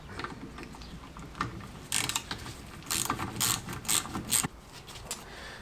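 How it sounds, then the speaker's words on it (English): Close, rapid ratchet clicking comes in several short bursts as a 10mm socket tightens brake bolts on the front drum brakes of a classic Fiat 500, with no voices. "Swap for our 10mm. and just tighten these up."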